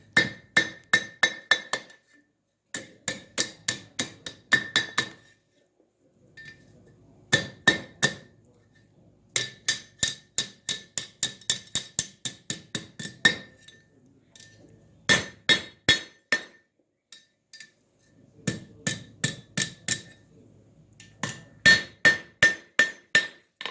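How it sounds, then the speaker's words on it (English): A blacksmith's hammer blows on iron ring out in quick rhythmic bursts of clanging strikes, separated by short pauses, loud and close with a bright metallic ping. "because it's cooler, I can hammer on it now"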